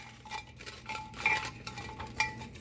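Tarot cards stirred around on a table for a zodiac reading, giving a soft, continuous shuffling rustle with a few brighter scraping accents, quiet and close, with no talking.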